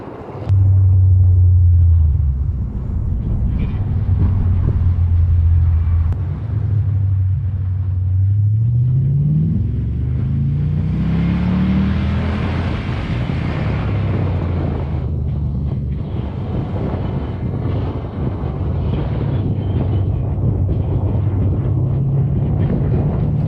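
A heavily lowered Ford Mustang SEMA build is out on its first drive, with its low-slung exhaust giving a steady, deep engine rumble heard from inside the car that swells briefly midway, along with some wind noise.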